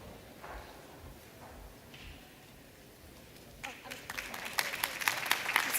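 Graduation ceremony applause from a seated audience builds after a few quiet seconds of low murmur, growing into dense, sharp clapping that rises toward the end.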